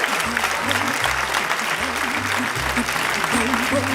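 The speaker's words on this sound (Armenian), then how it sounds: "Եվ այսպես հարգելի Նանո եւ Անդո զույգն են ծափահարություններով դիմավորենք նրան" Audience applause at a comedy league show welcoming a performing couple to the stage, a steady dense clapping that runs throughout under a voice talking over it.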